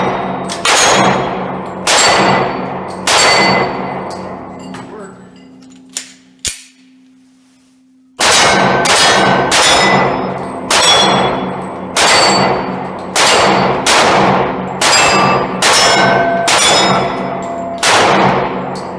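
A Glock pistol fires loud, sharp shots in quick regular succession outdoors. A long string of shots is broken by a short pause with a couple of metallic clanks, then the rapid firing resumes.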